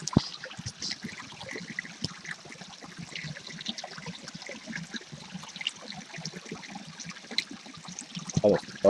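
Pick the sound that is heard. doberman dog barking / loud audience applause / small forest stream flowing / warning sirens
small forest stream flowing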